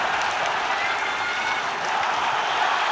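A stadium crowd roars and cheers steadily at a Conference League football match between Fredrikstad FK and Crystal Palace in Norway, a broad sustained wash of noise under a commentator's voice.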